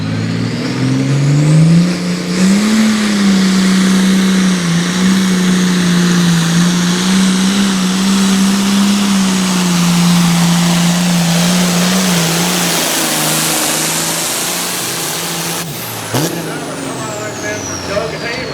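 A high-horsepower pulling tractor engine roars loud and close, holding a steady heavy drone for about thirteen seconds before easing off, with a brief blip near the end and a voice over the sound.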